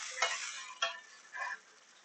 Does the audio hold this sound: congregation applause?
no